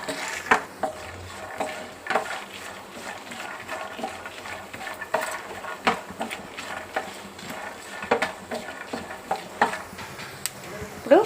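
Peanuts and dried red chillies frying in oil in a kadai, with steady soft sizzling and repeated stirring scrapes and clinks throughout, close and moderately loud, no talk.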